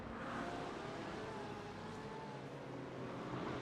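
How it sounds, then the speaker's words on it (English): A Corvette race car in a race at Interlagos, its engine a steady, muffled roar at moderate distance with no clear revving peaks. "There he is in that KSM Media Corvette, that black and gold one."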